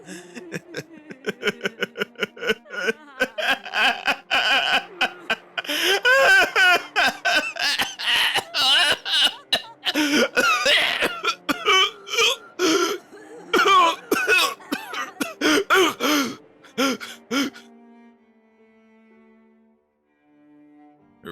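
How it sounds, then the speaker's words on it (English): A woman's wild, insane laughter that breaks up and turns into a painful, hacking cough, loud and close, fading out near the end. "insane laughter turned into a painful cough"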